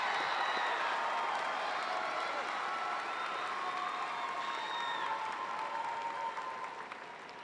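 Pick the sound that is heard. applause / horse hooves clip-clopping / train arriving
applause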